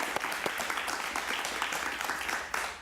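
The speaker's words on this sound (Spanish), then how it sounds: "lo recibimos con un aplauso muy cariñoso" A studio audience applauds to welcome a guest to a Spanish-language TV interview show, a dense, steady wash of many hands clapping at moderate volume with no speech over it.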